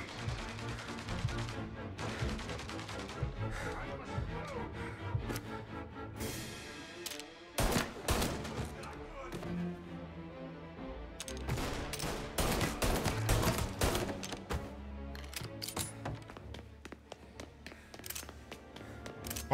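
Tommy gun gunfire in Mafia Definitive Edition, a video game: dense, sustained automatic bursts with sharp cracks and loud impacts, briefly cutting out near the middle, then resuming heavily.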